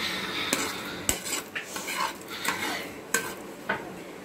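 A utensil stirs paneer into gravy in a pan, giving irregular scrapes and metallic clinks against the pan over a faint, soft bubbling.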